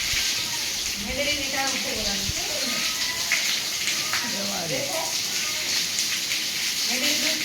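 Steady rain falls as a continuous broad hiss, while voices talk over it throughout.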